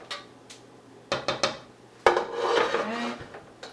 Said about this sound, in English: And you're just going to give that a stir.